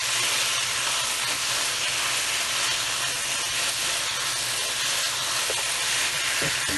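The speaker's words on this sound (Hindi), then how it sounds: "अब हम इसमें डालेंगे प्याज जो हमने ब्राउन की थी।" Browned onions going into a pot of aloo gosht sizzle steadily, a loud, even hiss of frying that runs unbroken from start to finish with faint clinks now and then.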